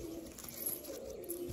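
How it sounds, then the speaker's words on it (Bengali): Aggressive adult pigeons of Madrasi, Rampuri and Malwai breeds, kept for sale near Kolyapur railway station, coo softly nearby in a short low burbling call with no talk over it. "প্রচুর অ্যাগ্রেসিভ পায়রা সব"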